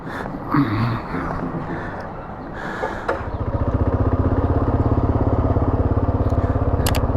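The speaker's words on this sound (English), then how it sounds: "Didn't realise how noisy my bike was." A Kawasaki KLR 650 motorcycle heading into the Flinders runs with loose, uneven clatter for a few seconds, then settles into a loud, steady, pulsing engine drone close by, with no voices.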